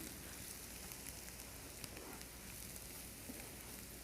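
Breadcrumbs are stirred in a hot pan with olive oil, giving a dense, even sizzling hiss like light rain that stays steady and close for a few seconds with no voices.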